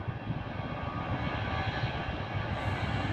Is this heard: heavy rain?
no